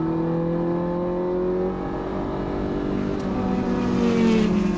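A Ferrari 430 Scuderia V8 drives a lap of the Fiorano circuit, its engine a steady loud drone heard from inside the car, with rising pitch as it pulls through the gears.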